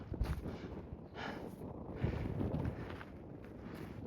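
Wind gusts buffet the microphone beside Blue Lake on the Tongariro Northern Circuit, a faint, low rumbling roar rising and falling in uneven surges with no voices.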